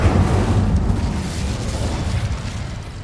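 A fire spell in Hogwarts Legacy bursts out as a loud whooshing blast that decays into a rumbling roar over a few seconds.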